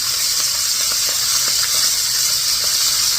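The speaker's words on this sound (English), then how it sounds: "immediately we are going to add our beef" Beef searing in a hot pan for beef bourguignon, a loud steady sizzling hiss with small crackles, close and continuous, no talking.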